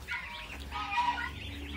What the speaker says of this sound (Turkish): Tavuklar da yine buradan çıkmışlar.